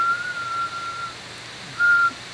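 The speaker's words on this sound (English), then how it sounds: "I can sort of validate this by whistling and picking one frequency" Someone whistles a single thin, steady note, holding it for about a second, pausing, then whistling again briefly over faint background hiss.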